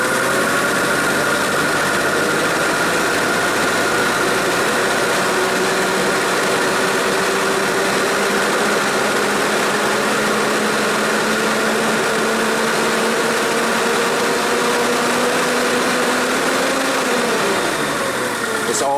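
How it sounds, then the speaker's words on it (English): Hyster forklift engine with low power running steadily as its RPM slowly climbs, a continuous close mechanical drone whose pitch rises gradually before dropping off at the end. "see right now, slowly raising the RPM"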